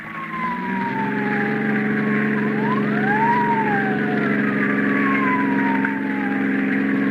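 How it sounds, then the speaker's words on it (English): A police car siren in a 1950 radio drama wails in rising and falling sweeps over a steady low engine drone, loud and close, with no talking. "Police car."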